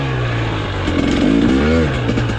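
A 2023 KTM 300XCW two-stroke dirt bike engine revs loud and close, holding a steady drone before climbing and wavering in pitch, with no talk.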